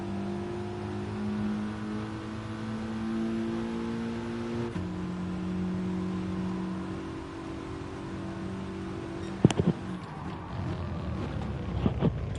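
Mitsubishi Lancer Evo Group 4 race cars in Gran Turismo Sport drone along in a one-make race, their steady engine note shifting in pitch with gear changes. Sharp clicks and knocks break through near the end.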